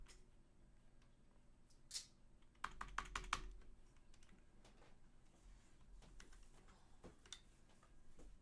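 Keys clatter on a computer keyboard in a quiet room, a short burst of quick taps in the middle with scattered single keystrokes before and after, close and fairly soft.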